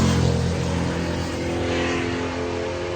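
A Chevy II gasser drag car at a drag strip revs steadily, a loud, dense engine roar that holds for about three seconds with no talk over it.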